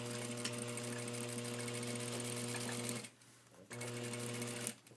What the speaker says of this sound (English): we're going to sew it again right inside of that